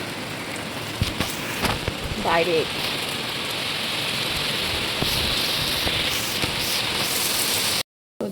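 Heavy rain pours outside as a loud, continuous wash of hissing noise, with a person briefly speaking near the start and a short break in the sound near the end.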